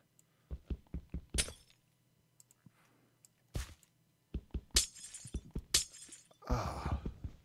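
Glass blocks shattering one after another in the Minecraft video game, a run of sharp crisp breaks arriving in irregular bursts with quiet gaps between, some landing in quick clusters, all clear and close with no talking.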